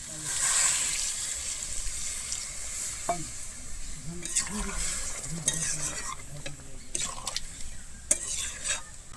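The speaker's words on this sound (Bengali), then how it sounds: "আমি এরপর এখানে দিয়ে দিচ্ছি জল" Water is poured into a pan of small new potatoes and spices frying for Bengali aloo dum, bringing a steady sizzle with scattered stirring and utensil clatter close by.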